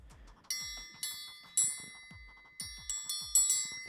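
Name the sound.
triangle played as a tune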